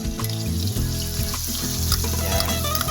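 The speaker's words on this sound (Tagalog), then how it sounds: "Tapos, sautay lang natin siya. Tapos, lagyan natin ng bawang." Garlic goes into onions already sautéing in a pan for an aligue (crab fat) pasta in coconut milk, bringing a steady, close frying sizzle with dense crackle that runs the whole time without any voice.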